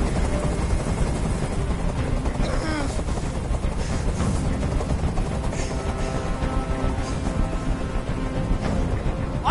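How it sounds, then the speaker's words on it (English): Loud, steady helicopter rotor noise hovering close overhead in the video game Detroit: Become Human, rapid pulsing mixed with sporadic sharp bursts and clatter. "I can't stand that noise anymore. Tell that helicopter to get out of here."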